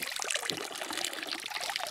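A public fountain along a Bavarian cycle route between Rottenbuch and Schliersee trickles and splashes steadily with a soft, continuous patter of water. The sound is fairly quiet and unbroken, and no one speaks.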